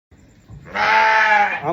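A goat on a Black Bengal goat farm in Barasat, West Bengal, lets out a single loud, drawn-out bleat close by after a brief quiet rustle.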